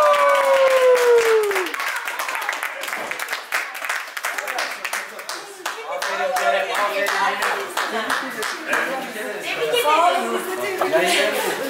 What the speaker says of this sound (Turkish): son kez alkışlar iki kayakçımıza